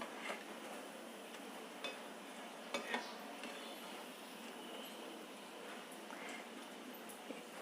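Butter murukku fries in hot oil, a soft, even bubbling sizzle heard close but fairly quiet, with a few faint taps and clicks, no one speaking.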